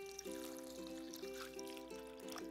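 A thin stream of water pouring and trickling steadily into a large bowl of beef, quiet and close, with a faint ringing tone as it fills.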